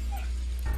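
A dog in a room gives a single short, faint yip or whimper over a steady low hum.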